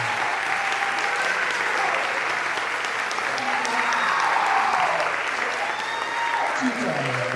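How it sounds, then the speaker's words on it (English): An audience at a comedy hypnotist show at Barton College in Wilson, North Carolina, claps continuously and loudly. The dense applause runs without a break, and a voice talks over it. "the more you applaud, the deeper they go"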